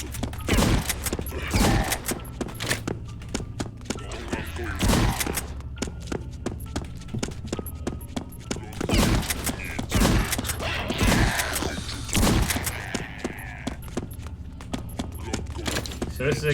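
Repeated gunshots and bursts of fire in the Doom-style shooter Doombringer, sharp, punchy cracks arriving in irregular clusters across the whole stretch, loud and up front.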